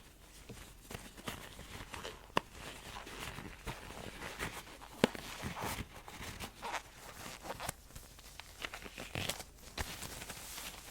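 Crinkly gloves are pulled onto hands in close-up ASMR style. Bursts of crisp plastic rustling and crackling come with a few sharp snaps and tugs and no speech.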